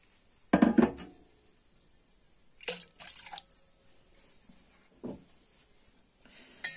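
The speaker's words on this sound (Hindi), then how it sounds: "अभी विस्कर के सारे हम इसको अच्छे से मिक्स कर लेंगे।" A whisk stirs milk, burans juice and water in a glass, giving a few quick bursts of clinking and sloshing, then fainter, scattered taps and swishes close by.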